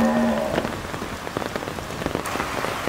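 Heavy rain pours steadily onto a surface during the wet season on a cattle-buying trip, a dense continuous patter with close drops and a brief tonal sound near the start.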